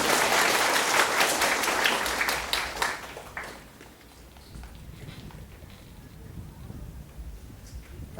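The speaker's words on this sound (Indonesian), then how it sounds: "Mari tepuk tangan dulu." Ceremony audience applauding at a tenth-anniversary regency ceremony in Pegunungan Arfak, Indonesia: a dense burst of clapping for about three seconds that quickly thins and fades into low background murmur.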